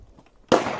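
A single sharp gunshot bursts out loud and close after a quiet pause during a draw-and-reload pistol drill, its blast decaying into a brief ringing tail.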